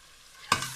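A spoon scrapes once sharply through cauliflower and potato curry with added spices and a stock cube in a pan, followed by a gentle sizzle.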